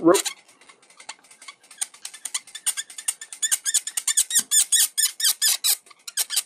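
Repeated sharp plastic squeaks from a TFC Toys Aiakos transformable robot figure as its parts are twisted and rotated during assembly, close and loud, in a quickening run of short bursts.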